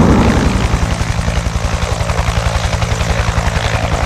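A Vietnam-era Huey helicopter runs close by, its rotor blades thumping in a fast, steady rhythm over a loud engine roar.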